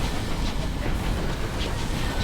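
Steady rumbling train in the Sunless Skies video game, a continuous dense hiss and low clatter with faint high accents, loud and constant throughout with no talk.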